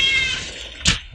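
A house cat meows just before being fed, a single drawn-out meow followed by a short sharp sound, heard close and alone.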